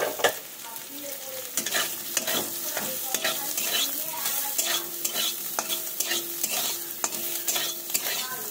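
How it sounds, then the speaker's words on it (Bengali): Soybean chunks frying in hot oil, a bright continuous crackling sizzle with frequent sharp scraping and stirring clicks of a utensil, close and fairly loud. "সেই তেলটার মধ্যে কিন্তু আমি এই সোয়াবিনগুলোকে সুন্দর করে কিন্তু ভেজে নেব।"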